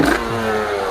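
A stock 50cc moped engine is held at low revs, then revs up hard as the rider accelerates, giving a loud, close, buzzing drone that stays strong and even through the moment.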